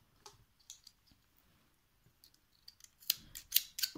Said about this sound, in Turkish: ipimi kısacık kesiyorum